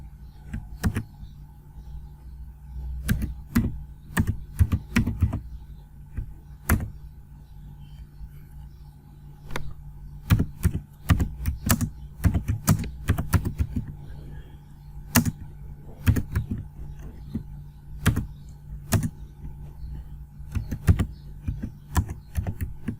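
HTML tags are typed on a computer keyboard, with bursts of crisp, close key clicks in irregular runs and short pauses over a steady low electrical hum. No voice is heard.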